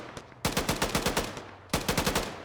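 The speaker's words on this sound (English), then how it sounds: "We're just gonna lay down some suppressive fire on them." Machine gun suppressive fire in Arma 3 rattles out in two loud, close bursts of rapid shots separated by a short pause.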